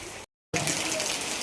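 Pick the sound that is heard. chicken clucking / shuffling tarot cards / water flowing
water flowing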